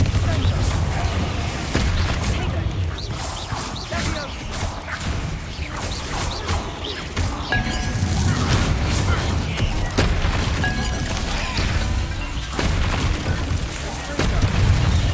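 The Confringo fire-blast spell in Hogwarts Legacy fires amid dense game combat noise, with repeated booms and crashing impacts under a constant loud rumble and some voice in the mix.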